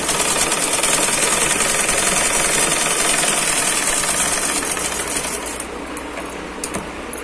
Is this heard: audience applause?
no